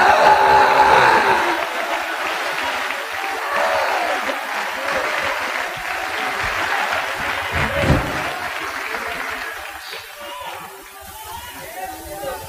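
Applause at a church Bible school gathering, a crowd clapping steadily under murmured voices and chatter, fading toward the end.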